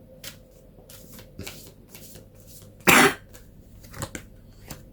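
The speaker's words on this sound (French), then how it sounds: "je suis désolé, je tousse." One loud, close cough stands out amid quiet rustling and soft shuffling sounds.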